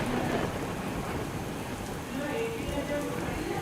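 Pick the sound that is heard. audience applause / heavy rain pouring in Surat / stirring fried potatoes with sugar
heavy rain pouring in Surat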